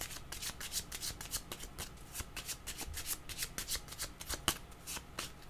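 Tarot cards are shuffled by hand close up in quiet surroundings, giving a quick, uneven series of crisp riffling slaps and papery flicks, fairly soft and with no talk.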